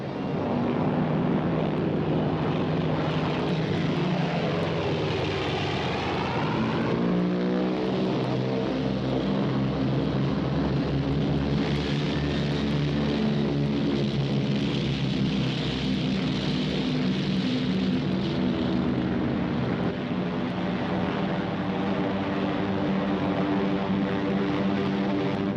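Propeller-driven bomber aircraft drone overhead in a wartime setting, a loud, continuous engine roar that swells and shifts in pitch as the planes pass, with no talk.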